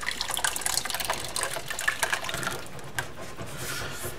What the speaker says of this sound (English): Now we're going to add our tomatoes that we pureed through the food mill.